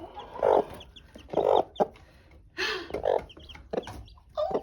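Mother hen near her newly hatched chicks giving a series of close, irregular low clucks and soft vocal bursts, spaced unevenly with short quiet gaps between them.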